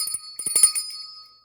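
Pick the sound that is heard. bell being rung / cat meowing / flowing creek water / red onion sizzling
bell being rung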